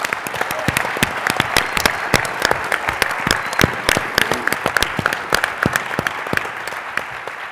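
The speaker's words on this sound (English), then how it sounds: "I want you to please join me in giving them a round of applause" Round of applause from an audience at an environmental justice panel event, steady dense clapping throughout with no talk over it.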